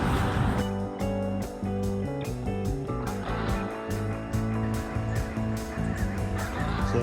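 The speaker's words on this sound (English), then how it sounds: "A few mallards out there talking to each other." Mallard ducks calling on a lake beside a hiking trail, a dense run of honking, quacking calls overlapping steadily throughout, fairly close and continuous with no talk.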